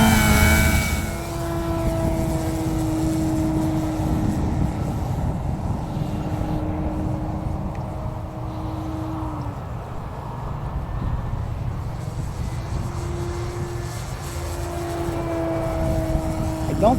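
A small XR-52 model propeller airplane buzzes steadily in the distance, its whining pitch rising and falling as it moves, with wind noise throughout.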